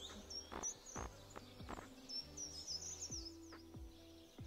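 Birds chirp and tweet outdoors in short, bright repeated calls at moderate distance, alongside soft thumps and low buzzing in the foreground.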